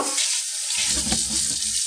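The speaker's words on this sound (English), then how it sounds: "These I am just going to put into a pot and rinse with a bit of water." Water runs into a pot to rinse potatoes at a kitchen sink, giving a steady broadband splash and hiss that fills the short clip, with the tap stream growing fuller partway through.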